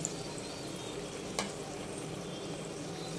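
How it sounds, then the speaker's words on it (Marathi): Sanjori, a Khandeshi jaggery-filled pastry, fries gently in oil over a low flame, giving a soft, steady sizzle and faint bubbling heard close and quiet, with one brief sharper crackle midway. "हिला आपल्याला स्लो गॅसवरतीच तळून घ्यायची आहे."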